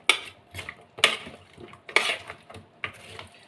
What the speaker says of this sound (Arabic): هنقلب بقى المكونات دي كلها مع بعض بالشكل ده كده